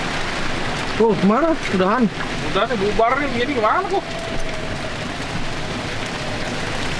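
Steady rain hisses outdoors at a charity golf event by the beach while several people chat loudly over it.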